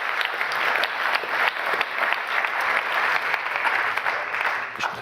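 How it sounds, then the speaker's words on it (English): An audience at an award ceremony applauds steadily, a dense, even wash of clapping that holds for several seconds without a break. "On peut les applaudir,"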